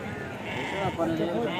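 Goats bleat amid a busy weekly goat market at Kadiri before Bakrid, their wavering calls mixed with people talking nearby.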